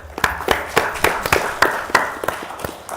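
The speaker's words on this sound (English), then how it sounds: "So let's give them a round of applause." A small group claps at a city council meeting: sparse, evenly spaced claps in a steady rhythm, close and fairly crisp, with no cheering or talk.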